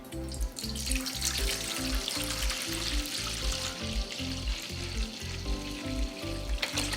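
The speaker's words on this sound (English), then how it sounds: "We're going to grab our cranberry apple juice and just pour the whole thing in your bowl." Cranberry apple juice pours steadily into a bowl for a party punch, a continuous splashing gush close by over a rhythmic musical backing, with no talking.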